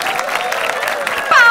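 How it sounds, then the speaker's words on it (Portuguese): Applause sound effect in a Roblox circus-themed game, a steady patter of clapping with a brief bright chime near the end. "Palmas para o Gango!"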